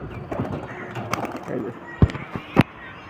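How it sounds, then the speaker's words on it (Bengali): Punjabi Malwai pigeons taking off under a cloudy sky, with a few sharp wing claps and flutters near the end, set against soft cooing and background murmur. "এই যে চলে যাচ্ছে কবুতর"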